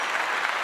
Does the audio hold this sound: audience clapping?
yes